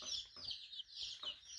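New chickens in a coop clucking and chirping softly, several short close calls over a quiet background.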